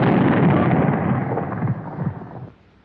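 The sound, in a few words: anti-tank gun firing, recoil reducer in action, WWII film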